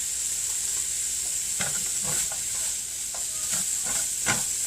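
Package veggies of broccoli, snow peas, carrots and red cabbage stirred among roasted vegetables in a hot pan, with a steady sizzle under scattered scraping strokes from the spoon, close and fairly loud.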